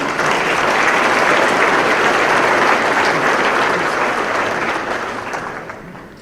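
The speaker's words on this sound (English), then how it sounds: "Would you please help me in giving a round of applause to the leadership of Mobility 21?" An audience at a conference opening session applauds the leadership of Mobility 21, sustained dense clapping from a large crowd that swells quickly, holds for several seconds and then slowly tapers off.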